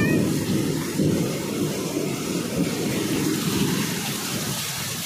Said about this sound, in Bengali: কি জোর বৃষ্টি হচ্ছে, মেঘ ডাকছে, শুধু মেঘের আওয়াজটা শোনো